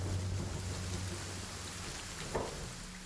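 Hard rain falls in Kenshi, the game, as a steady broadband hiss with a low rumble underneath, holding constant over a few seconds with one brief louder patter near the end.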